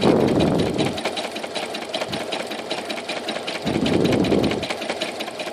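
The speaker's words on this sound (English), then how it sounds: "We're just going to leave it and finish out our stitch all the way to the bottom." A sewing machine stitches down to the bottom of a piece of fabric in a stitch sampler, running with a rapid mechanical chatter that slows briefly mid-run, then picks up again, close and steady with no talk.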